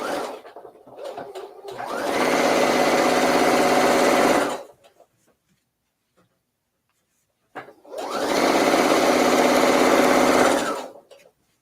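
A serger sewing machine stitching men's shirt fabric runs in two loud, steady bursts of a few seconds each, separated by a quiet pause, with faint handling clicks before the first run.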